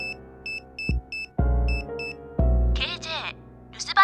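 A phone line gives repeated short, high electronic beeps, then a call fails to connect and drops into low tones and a connection message, with a voice speaking near the end.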